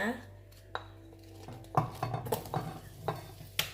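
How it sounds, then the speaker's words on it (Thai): Shallots stir-frying in oil for fried rice, a soft sizzle under repeated clinks and scrapes of a utensil against the pan, close and moderately loud. "ใช้เป็นหอมลงไปผัดเลย"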